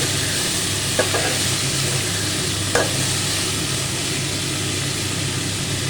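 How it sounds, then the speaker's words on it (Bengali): Vegetables fry in hot oil with a steady, loud, close sizzle, broken by two brief scraping stirs of a spatula against the pan, and no voices. "এবার তেল গরম হয়ে গেছে, তার মধ্যে আমি এই সবজিটা ঢেলে দিলাম। ভালো করে ভেজে নেব।"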